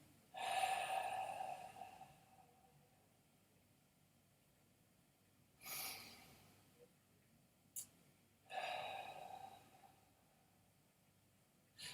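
Slow, forceful breaths during a karate breathing exercise in sanchin stance, several long airy exhalations separated by quiet gaps, with a short sharp puff in between, close and alone.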